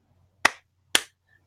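A single person claps twice, two sharp, distinct hand claps about half a second apart in an otherwise quiet room.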